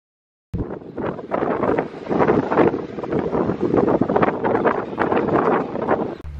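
Strong wind at the Oberalp Pass in the Swiss Alps buffets the microphone in loud, continuous gusts, a rough roaring rush that starts abruptly and holds steady throughout.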